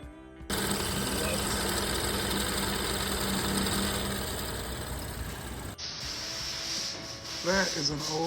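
A worn, half-off brake rotor on a car grinds in a steady, close rasping drone, which cuts briefly before a quieter stretch with an engine running and a voice speaking.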